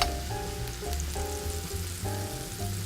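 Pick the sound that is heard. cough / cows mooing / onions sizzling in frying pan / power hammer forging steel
onions sizzling in frying pan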